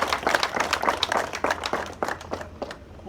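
An audience at an arts festival claps for the organisers, with distinct, fairly close hand claps in an uneven, thinning rhythm that fades toward the end.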